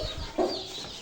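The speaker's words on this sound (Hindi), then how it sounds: "ये देखिए हमारी लाखी मुर्गी जो है वो मट्टी में खेल रही है" A single brief cluck from a chicken in a backyard bird pen, close and fairly loud over a faint background hiss.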